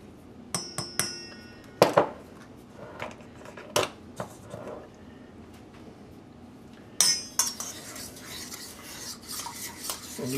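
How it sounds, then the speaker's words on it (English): Sugar and celery seed are stirred into cider vinegar in a bowl. A spoon makes intermittent clinks and scrapes against the dish, some sharp and bright, with quieter swirling between them. "And you mix this around until the sugar dissolves in the vinegar."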